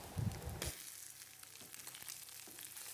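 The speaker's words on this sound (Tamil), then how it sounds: "இந்த மாதிரி கொஞ்சம் மெல்லிய நெருப்பில் போட்டு லைட்டாக பொரித்து எடுத்துக்கொள்கிறேன்" Cooked meat fries lightly in a pan over low heat for Sri Lankan kottu roti, a soft steady sizzle after a brief clatter at the start, close and alone.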